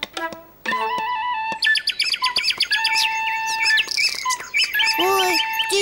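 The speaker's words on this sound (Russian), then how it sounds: "Ой, птички стали ссориться." Cartoon birds squawk and chirp in a quarrel, a busy overlapping run of loud tweets and squeals after a short musical opening, close and clear with no talk over them.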